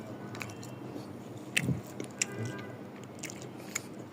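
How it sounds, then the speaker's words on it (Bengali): Someone bites into and chews a chicken hariyali kebab made with coriander leaves, producing soft, faint, close-up squishy bites and chewing with a few small crunches over a quiet room background. "সো আমি একটু এখন হারিয়ালি কাবাবটা ট্রাই করে দেখি।"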